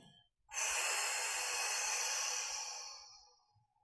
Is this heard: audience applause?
no